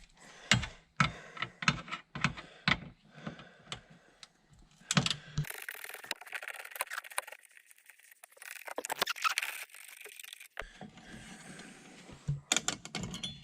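A Torx fastener is worked loose from a metal piece near the blower fan of a VW Beetle, giving close ratcheting clicks and light metallic rattling in irregular bursts, with quieter fiddling in between.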